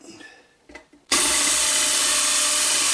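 Power drill boring a hole, starting suddenly after a few quiet handling knocks and then running at a loud, steady, high whine close by.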